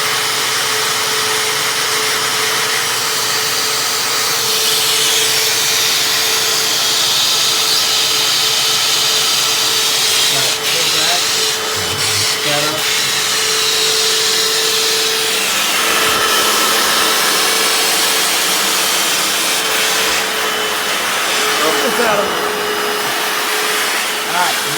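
A Hoover FloorMate Deluxe floor cleaner scrubs a bathroom floor, giving a loud, steady motor whir with a brush hum that runs nonstop, dipping and surging a little as the machine is pushed back and forth.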